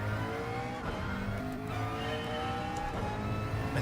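A McLaren race car in Gran Turismo 7 on the Grand Valley track holds a steady, loud engine drone, rising in pitch through the gears, alone with no talk.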